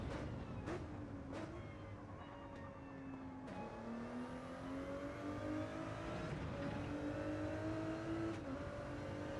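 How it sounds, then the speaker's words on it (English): Ford Mustang GT3 race car in Gran Turismo 7, its engine droning and revving with rising pitch sweeps and sharp gear-change breaks, a continuous, fairly quiet mechanical roar with no talk. "Just listen to how good it sounds"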